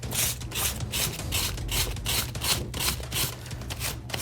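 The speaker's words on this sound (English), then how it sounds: "I'm just kind of going in one direction and just sanding this out" Sandpaper rubs over a scratch-built Star Wars Legion bunker model in steady one-directional strokes, giving a close, continuous rasping with rhythmic pulses and no talking.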